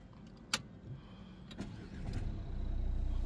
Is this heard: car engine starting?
yes